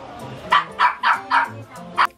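Dogs bark at the Cartimar pet shop, five sharp, fairly close barks at irregular intervals over quiet background murmur.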